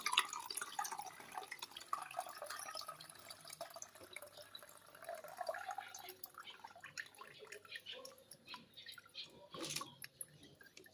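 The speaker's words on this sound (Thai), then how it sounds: "แล้วก็ทำการกรองครับ กรองเอาแต่น้ำนี่นะครับ" Homemade pigeon-repellent liquid being strained, with faint irregular drips and trickles of liquid falling, quiet and close, over light background noise.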